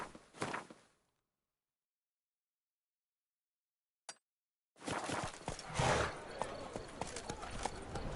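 Hooves of the horse in the video game The Witcher 3 clip-clopping, heard briefly at the start, then silence, then a steady stretch of trotting mixed with game sounds and a voice.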